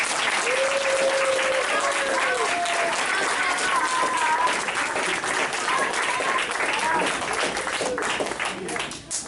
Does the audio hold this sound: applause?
yes